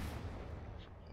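Battleship gunfire in the naval combat game From the Depths: a loud, dense rumble of heavy cannon fire, booming continuously with low thuds throughout, no voices.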